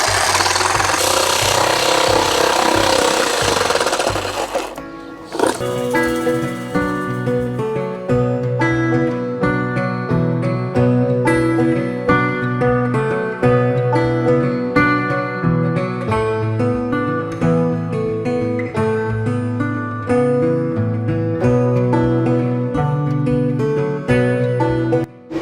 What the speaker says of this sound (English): you can also plunge with your jigsaw